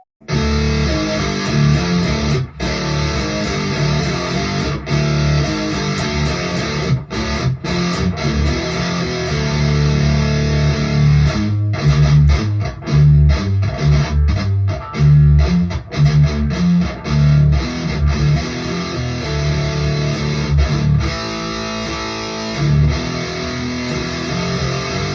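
A heavily distorted electric guitar with a quilted maple top plays loud, sustained chords and chugging riffs with sharp stops, continuous and close.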